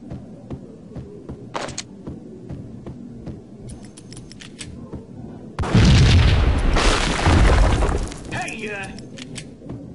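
A bomb-like explosion in the video game Max Payne bursts in loud and near, with a deep rumbling boom lasting a few seconds before fading, after quieter background sounds and faint voices.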